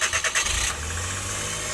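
A D64V van engine cranks in a few quick, loud pulses, then catches and settles into a steady, close idle rumble.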